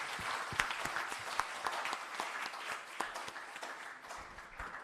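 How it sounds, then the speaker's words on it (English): Audience applause at a startup bootcamp session: a dense, steady patter of many hands clapping, moderately quiet, with no talking over it. "Have a round of big applause."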